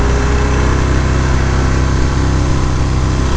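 A 2018 Harley-Davidson Fat Bob 114 with stock pipes idles steadily, its big V-twin giving a constant, loud, even rumble that runs unbroken through the whole stretch with no voices.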